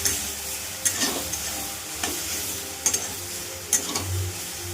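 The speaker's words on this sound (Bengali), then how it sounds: "এবার নেড়ে চেড়ে দেবো ভালো করে।" Red amaranth greens with poppy seeds are stirred in a pan under a soft continuous sizzle, with about four sharper spatula scrapes and clicks spaced roughly a second apart, fairly quiet and close.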